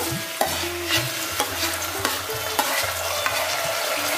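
Onion frying in hot oil in a cooking pot, a constant close sizzle with sharp bursts as it is stirred, no voices.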